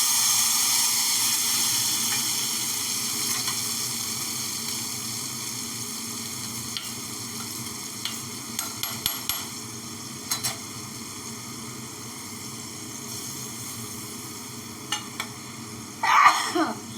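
Chhana kofta balls fry in hot oil in a home kitchen, a steady soft sizzle hissing throughout with a few light clinks and stirs, and a sharper burst of spattering near the end.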